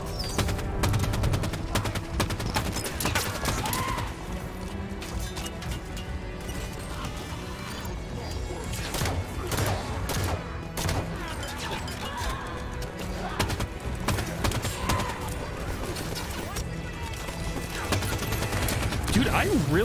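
Sustained assault rifle gunfire in Halo 5: Guardians, dense rapid bursts of shots with crashes and mechanical clatter running continuously throughout, loud, with a player talking over it.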